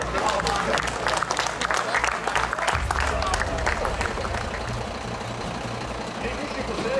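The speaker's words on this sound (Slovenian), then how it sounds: "In prav je, da imamo tudi en velik aplavz" An audience claps at a firefighters' graduation exercise. The applause is steady and moderately loud, with a low idling engine rumbling underneath and a voice speaking over it.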